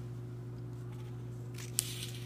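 Scissors snip through folded origami paper in one short, crisp cut near the end, heard close over a steady low electrical hum.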